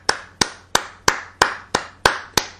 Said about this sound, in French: tu entends des applaudissements qui se rapprochent.